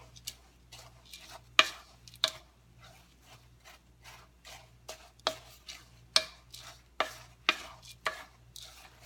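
A spoon stirring flour and oats into chocolate chip cookie dough in a bowl, a steady series of close, sharp scraping clicks against the bowl, rhythmic and fairly even, with no talking.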